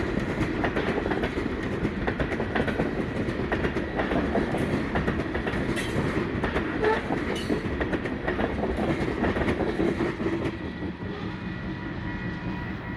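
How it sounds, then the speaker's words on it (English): NECR GP40-2 diesel locomotives roar steadily while pulling a northbound freight train up a sizable grade, a loud continuous engine rumble with rail clatter that eases slightly near the end. "the roar of the engines was very audible as they pulled the train north"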